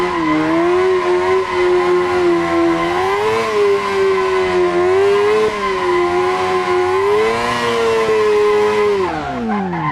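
Drift car with a Yamaha R6 motorcycle engine in Assetto Corsa, a loud high-revving buzz that rises and falls continuously with throttle changes, tire squeal mixed in, no talk.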